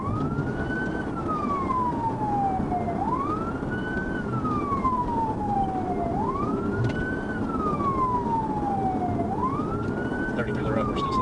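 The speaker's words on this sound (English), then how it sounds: "When the trooper activated his emergency lights and sirens" A police car siren wails in a slow, repeating rise-and-fall cycle during a pursuit, steady and moderately loud over road and engine noise.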